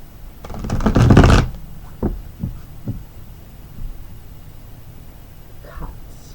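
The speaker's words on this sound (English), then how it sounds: "let's shuffle up the tarot cards first" A burst of tarot cards being riffled and shuffled, followed by a few soft taps and shuffles of the deck, close up.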